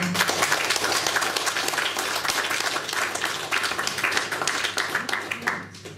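Large audience applauding seniors who completed computer courses at a friends-and-graduates gathering, a dense, steady wash of many hands clapping for about six seconds before tapering off.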